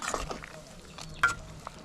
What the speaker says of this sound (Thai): ตอนนี้หม้อแกงไวยเขาก็เดือดเต็มที่เนาะ